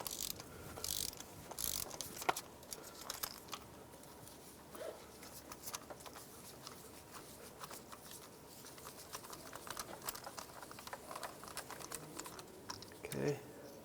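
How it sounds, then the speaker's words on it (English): A spark plug socket on a ratchet turning out a spark plug on a 1997-2001 Lexus ES 300 engine, giving faint, rapid clicking and scraping mechanical ticks close by at low level. "with the spark plug socket, go ahead and remove the spark plug"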